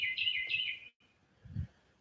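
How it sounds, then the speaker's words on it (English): Birds chirp and sing outdoors at sunset in a bright, repeated twittering burst, then pause, followed by a faint distant call and a low thump. "We're listening to the birds sing."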